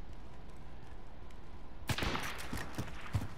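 Gunfire in the Call of Duty: Modern Warfare video game, a quiet stretch then a sudden cluster of sharp, loud shots in rapid irregular bursts continuing to the end.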